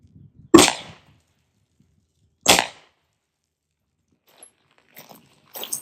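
Two sharp, loud pistol shots from a Smith & Wesson M&P 2.0 Compact handgun, about two seconds apart, followed by faint handling clicks and soft rustling.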